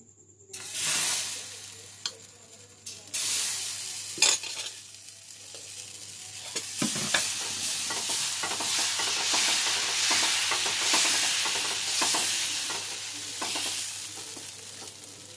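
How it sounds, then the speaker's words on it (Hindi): Dosa batter on a hot tawa griddle gives a steady, close sizzle as the crepe turns crispy, broken by brief scraping and stirring sounds, with no voices. "आज मैं आपको बताऊंगी कि तवे वाले डोसे पे डोसा कितना क्रंची और क्रिस्पी बनता है।"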